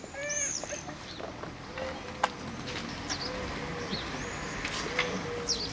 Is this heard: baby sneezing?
no